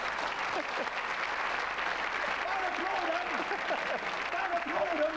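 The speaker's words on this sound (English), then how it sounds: "Don't applaud them!" Steady applause from a crowd runs for about five seconds at moderate loudness, with voices murmuring and calling out beneath it.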